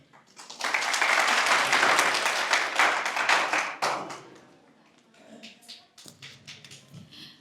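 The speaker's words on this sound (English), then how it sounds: "Please give a big round of applause to Director Sir for his remarkable and insightful words." Audience at an International Women's Day celebration in Aligarh claps after the director's speech, a loud burst of applause for about four seconds that fades into scattered claps and murmuring.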